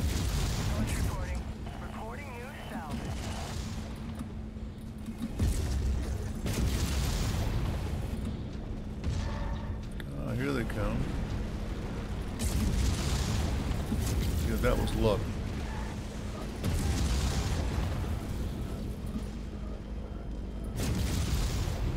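Weapon fire and explosions rumble almost nonstop during a Clan Invasion career mission in the mech combat video game MechWarrior 5, with heavy booms and bursts layered over a dense, loud background.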